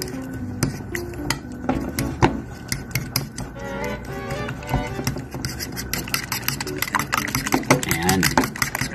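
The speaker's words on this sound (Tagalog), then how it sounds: "Durugin po natin siya. At haluin din ng mabuti." Spoon scraping and crushing cooked meat in sauce in a pan for a budget dish, rapid repeated clinks and taps against the pan running under a person talking.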